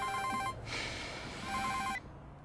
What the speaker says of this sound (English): Hello, Kim Jong-un's phone.